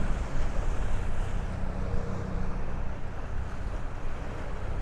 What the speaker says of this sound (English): you could actually see some wind gusts off of Midland Beach out there